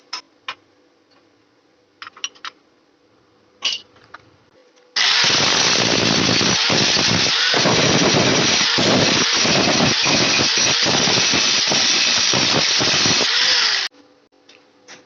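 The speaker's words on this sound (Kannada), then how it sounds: "ಆ ರೀತಿ ವೆಲ್ಡಿಂಗ್ ಮಾಡ್ತಾ ಇದ್ದೀನಿ." Electric arc welding on a steel frame for a flour mill, a steady loud crackling hiss running for about nine seconds, starting abruptly and stopping, with faint workshop clicks before and after.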